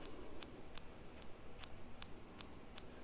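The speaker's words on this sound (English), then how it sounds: "you can use a scissor to just trim the surface" Small scissors trimming the fuzzy surface of needle-felted wool, seven or eight crisp, quiet snips at an even pace over a faint room hush, close to the microphone with no talk.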